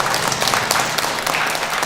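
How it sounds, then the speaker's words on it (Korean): Sustained applause from an audience at a hanbok honorary ambassador appointment ceremony, dense continuous clapping filling the room, fairly loud and steady throughout. "박수 한번 부탁드리겠습니다."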